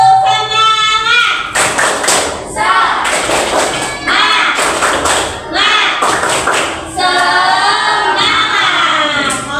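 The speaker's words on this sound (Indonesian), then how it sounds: "Sekarang tepuk semangat." A classroom group performs a rhythmic clap-and-chant routine, loud, close bursts of unison clapping alternating with shouted chanted words in a steady pattern.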